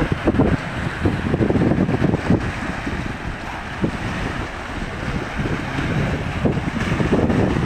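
Strong waves, wind and heavy rain from a tropical storm on a dark coastal evening in Northern Luzon roar continuously, with rumbling surf and gusty wind buffeting the microphone.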